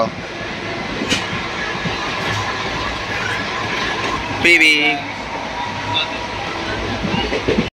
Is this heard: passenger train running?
yes